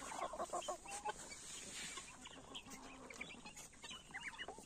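White Marans hens clucking in a farm poultry yard, heard as faint, scattered clucks and soft calls over quiet background noise.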